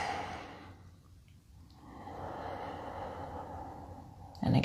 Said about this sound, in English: Take a deep breath in and a deep breath out.